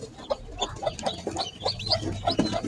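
A mother hen with her newly hatched chicks in a basket clucks and peeps in quick, uneven bursts close by, high chirps scattered over lower clucks against a faint low hum.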